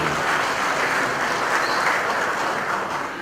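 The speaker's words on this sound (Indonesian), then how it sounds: "Tepuk tangan buat Bang Haji." Loud, steady applause fills a formal Betawi community inauguration ceremony as a crowd claps for a guest of honour, a dense unbroken wash of many hands throughout.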